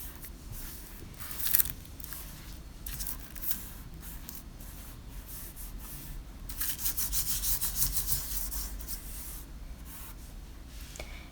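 A tissue rubbed over an inked gel press plate, giving soft, close papery scrubbing strokes in short bursts that grow busier toward the end, with no talking.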